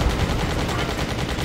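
Rapid automatic gunfire in the Just Cause video game, a dense, continuous loud burst of shots.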